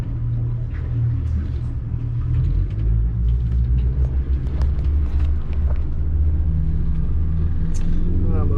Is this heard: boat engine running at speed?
yes